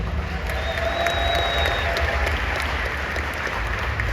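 Sustained audience applause from a large crowd at Invest Fest 2024, dense and steady for the full four seconds with scattered cheers mixed in, loud and close throughout.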